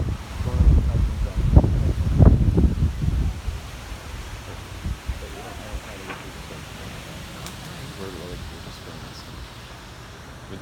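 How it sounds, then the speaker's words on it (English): A strong thunderstorm wind gust over Bolivar, West Virginia, with heavy buffeting rumble in the first few seconds, mixed with a voice, then easing into a quieter rushing hiss of wind and rustling. "But that was a cool gust right there."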